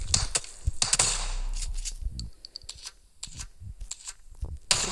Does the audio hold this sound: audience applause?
no